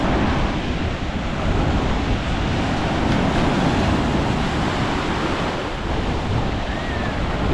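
High ocean waves roll and crash continuously on Canggu beach in Bali, making a dense, steady surf roar with wind buffeting the microphone and no voices.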